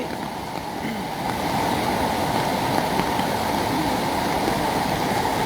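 The Surma river in Sylhet, swollen by flooding, flows in a loud, continuous rushing and churning, close and unbroken with no voices.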